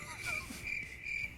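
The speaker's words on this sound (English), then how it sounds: "got crickets." A soundboard plays a cricket chirping effect as a steady, high, repeated trill in three pulses, with a faint voice in the background.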